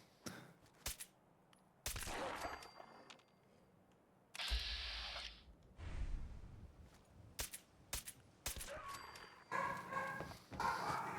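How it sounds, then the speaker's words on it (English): Dogs bark in the background of Fallout 4 survival-mode gameplay, in short scattered bursts mixed with sharp game impacts and rustling movement, fairly faint and intermittent. "Can you hear the dogs?"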